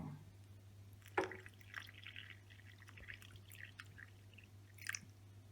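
Water drips and splashes from holed flower pots after the plants are watered, a few clear close drops and trickles scattered over a faint steady hum, with no speech.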